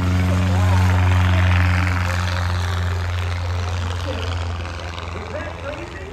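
A Cessna 170 light propeller airplane takes off, its loud droning engine close at first and then slowly fading as it climbs away, with someone talking over it.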